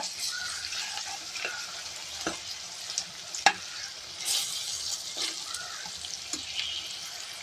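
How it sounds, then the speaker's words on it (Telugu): Ginger garlic paste frying in a pan for Telangana mutton curry gives a steady close sizzle with occasional stirring clinks and scrapes, no voices. "కొంచెం అల్లం వెల్లుల్లి పేస్ట్, అల్లం పేస్ట్ పచ్చివాసన పోయే వరకు అయితే వేసుకోవాలండి."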